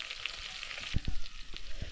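Oil tempering sizzles in a pan over a wood-fired village stove, a continuous close hiss with several sharp knocks and clatters of utensils, no speech.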